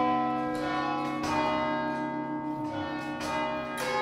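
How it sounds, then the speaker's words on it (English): Church tower bells from Australia's only ring of twelve play a traditional Irish tune. Loud, resonant, overlapping strikes ring out in a steady melodic sequence, with long sustained tones and no talking. "This is the only set of 12 bells in Australia"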